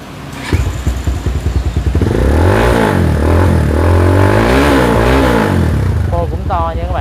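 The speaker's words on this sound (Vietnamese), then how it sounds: "Máy thử con Benelli cho anh nghe coi như thế nào." A Benelli motorcycle with a modified loud exhaust starts up with a clattering idle. It then revs repeatedly, close and loud, with rising and falling engine pitch, and a voice is heard briefly near the end.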